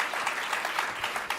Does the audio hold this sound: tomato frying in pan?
no